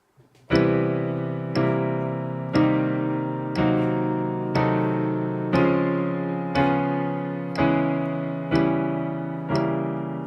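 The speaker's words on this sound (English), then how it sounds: "So if you take your metronome, here's a nice little app, this is 60 BPM," Piano chords struck once per second at a steady slow tempo, ten even strikes, each ringing and decaying before the next.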